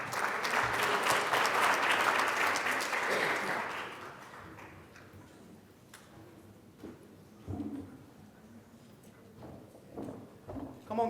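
Audience applause at a student convening, full and steady for about four seconds, then dying away into a few scattered late claps and quiet room noise.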